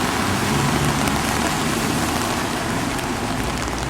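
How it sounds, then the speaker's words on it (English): Steady, dense patter of cold rain falling on hard surfaces in Augsburg, Germany, a constant hiss and spatter filling the whole clip with no voices. "In the rain."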